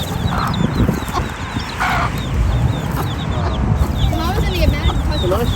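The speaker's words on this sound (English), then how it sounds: "This is the same mama hen," A mother hen clucks repeatedly close by amid other chicken and chick calls, with people talking over a steady farmyard background.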